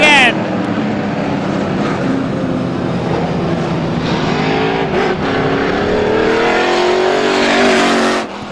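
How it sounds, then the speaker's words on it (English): Race car engines roar past at speed during an outlaw feature race at Star Speedway, their pitch sweeping up and down as they circle, loud and continuous with a voice talking over them. "Here comes last Saturday night's feature winner, Sandown, New Hampshire's Barry Raymond"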